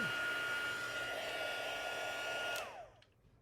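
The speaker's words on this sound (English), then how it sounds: "This one will go a little faster because our heat tool is warmed up." Heat tool for crafting blowing hot air, already warmed up, a loud steady whoosh close by that runs alone for about two and a half seconds, then switches off and winds down.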